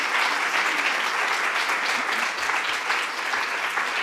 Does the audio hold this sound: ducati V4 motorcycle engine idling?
no